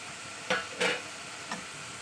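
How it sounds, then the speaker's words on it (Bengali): Spices with salt and turmeric are stirred in a hot pan, with a steady background sizzle broken by a few brief scraping strokes of the spoon. "মশলার সঙ্গে লবণ হলুদটা ভালোভাবে কষিয়ে নিয়ে"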